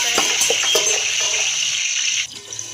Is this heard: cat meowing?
no